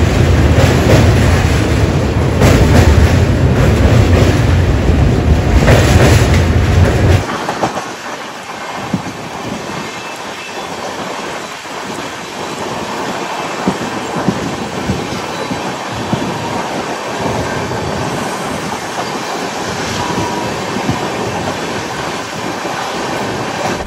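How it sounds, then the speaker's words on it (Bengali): The Sealdah Puri Duronto Express runs at speed, first as a loud, heavy rumbling roar, then dropping to a quieter steady clatter of wheels on rails with faint rhythmic clicks, heard from inside the carriage with no talking. "আর ট্রেন ভালো পিকআপে চলছে কিন্তু"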